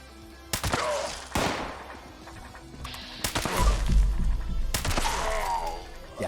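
Bloodied Explosive The Fixer rifle from Fallout 76 firing in several separate bursts of sharp, booming shots with explosive thuds, loud and close, with gaps of game ambience between volleys.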